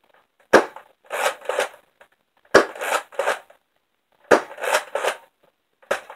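A Nerf Slingfire blaster fires foam darts into a target bag in four bursts: a sharp pop from each shot, then a rattling slide-cocking sound, repeated at a steady pace.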